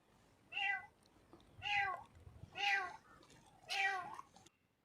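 A kitten meows four times in a row, each cry clear and fairly close, spaced about a second apart, with a quiet background and no talking.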